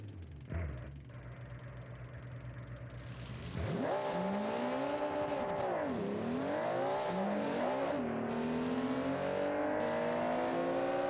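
Car engine in the BeamNG driving game, idling quietly at first, then revving hard with rising and falling pitch sweeps through repeated throttle blips, loud and close with no talk.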